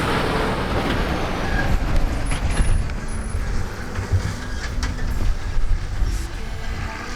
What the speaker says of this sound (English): I'll wait for the truck